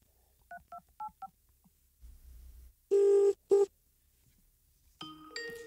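Four quick touch-tone beeps of a number being dialed on a PBX phone system, followed after a brief gap by two long ringback tones and then some electronic clicks and tones, heard clearly and with nobody talking.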